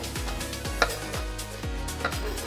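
Onions for French onion soup go into a pot with a series of regular low thumps and scrapes, roughly two per second, with a couple of brighter metallic clinks from a utensil against the pot.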